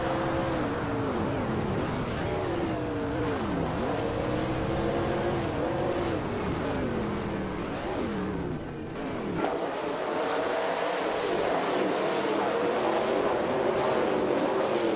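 Race cars in a video game roar continuously, with engine tones rising and falling as several cars run close together through the pack. The sound stays steady and loud from start to finish.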